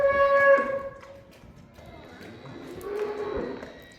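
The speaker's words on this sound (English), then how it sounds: "Causing a disruption amongst the cows." Cows mooing in a barn: one loud, drawn-out moo up close, then quieter lowing and shuffling after a short pause.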